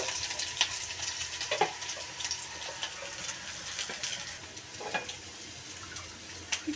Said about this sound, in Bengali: পেঁয়াজ রসুন ভেজে নেব